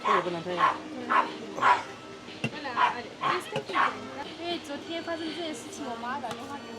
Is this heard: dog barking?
yes